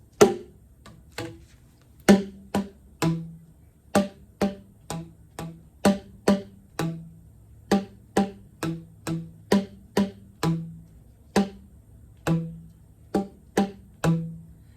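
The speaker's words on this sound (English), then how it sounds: "these are my bass boom whackers, so these are the lower ones" Hollow plastic bass boomwhacker tones are struck in a steady rhythmic pattern, alternating between a lower and a slightly higher pitch, close and unaccompanied.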